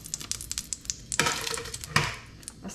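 Dried red chillies fry in hot oil. A close crackling sizzle is broken by quick clicks and pops, with a couple of louder bursts of frying noise.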